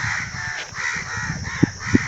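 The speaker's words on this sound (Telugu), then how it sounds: "కాకులు వరుతున్నాయి." Crows cawing outdoors near a village childcare centre, a few harsh repeated caws at moderate distance, with a couple of sharp knocks near the end.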